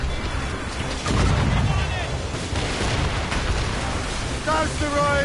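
Ship cannons boom during a naval battle in Assassin's Creed Rogue, heavy low blasts rolling over continuous wind-and-sea noise, with shouted voices of the crew breaking in between.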